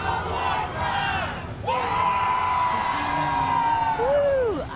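A large crowd at a Diablo III open Q&A event roars together in a loud, sustained cheer, many voices yelling and whooping in unison with a brief dip before surging again.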